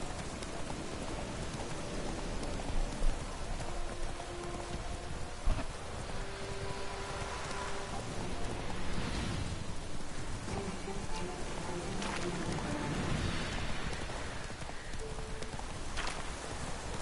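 Steady rainfall in The Witcher 3 video game, a constant dense hiss with scattered drops, alongside rhythmic hoof clip-clop and faint distant rumbles, continuous and moderately quiet.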